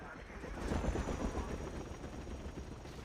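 Black Hawk helicopter in Battlefield 2, rotor thumping in rapid pulses with a low rumble, fairly faint under a voice.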